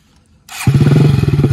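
A modified motorcycle with an aftermarket exhaust and push-button start cranks and fires up, settling into a loud, throaty, pulsing idle with a deep rumbling exhaust, close by.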